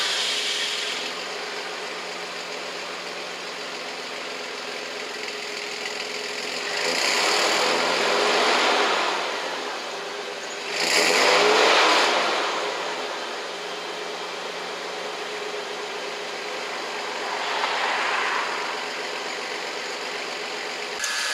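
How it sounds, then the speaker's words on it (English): A Toyota FVZ-FE V6 car engine runs at a steady idle, with three louder rev swells partway through and no talking. "So I'm gonna quickly turn it on, and yeah, then I'll show you the engine."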